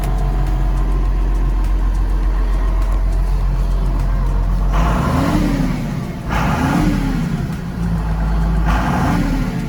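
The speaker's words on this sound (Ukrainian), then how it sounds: "Нормальний робочий викид, дуже приємна робота двигуна" A John Deere 6910 tractor engine runs steadily and loud, then revs up in several rising surges, settling back to a rumbling idle between them.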